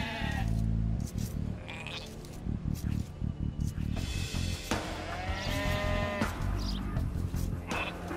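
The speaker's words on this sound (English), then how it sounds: "Sheep found." Sheep bleat repeatedly in the Age of Empires II video game, a string of short, close, fairly loud bleats mixed with other game sounds and clicks.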